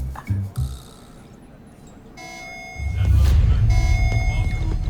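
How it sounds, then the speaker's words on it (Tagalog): A general alarm goes off, a steady electronic tone with bright harmonics cutting in partway through, over a loud low rumble, after a couple of short thumps at the start. "Alarm na naman. General alarm to."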